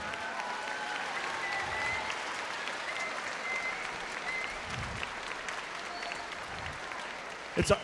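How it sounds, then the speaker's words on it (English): Audience applause for young percussionists at a city-wide band festival, sustained steady clapping from a crowd at moderate level for several seconds. "Give them a round of applause for doing a nice job."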